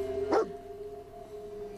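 A dog in Fallout 4 gives one short, sharp bark close by, then goes quiet over a low steady hum of game ambience.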